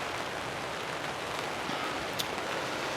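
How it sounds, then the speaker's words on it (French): Light rain patters on a greenhouse tarp in a steady, soft, even hiss with no distinct drops standing out and no one talking. "il y a à nouveau une petite pluie"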